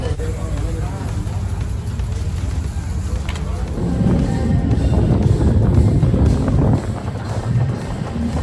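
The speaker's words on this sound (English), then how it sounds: "It's a little loud and it's very windy." Wind buffets the microphone in a constant low rumble that swells louder midway, with voices murmuring underneath, at the start line of a cycling race.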